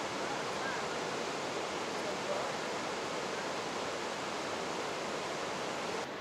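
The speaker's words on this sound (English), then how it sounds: "From the bridge, there's a great view of the cascade." Water in a creek cascade below a bridge along the Going-to-the-Sun Road rushes as an even, unbroken hiss of moderate loudness, with no other sounds standing out.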